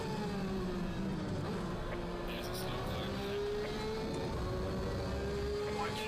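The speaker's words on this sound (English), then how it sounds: "The Bentley sounds unbelievable." A Bentley GT3 race car in the Assetto Corsa Competizione sim racing game at Brands Hatch, its engine droning with a steady note that slowly rises and falls while other cars whoosh past. Someone talks over it.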